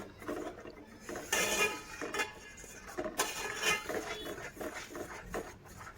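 A spoon clinks and scrapes around a pan while milk cream is stirred into a custard mixture. The taps come in quick, irregular bursts, fairly close but quiet, with no talking.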